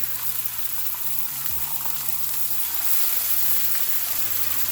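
Turkey sausage and turkey bacon fry on a griddle in avocado oil, a steady broadband sizzle running loud and unbroken throughout with a low hum beneath and no talking.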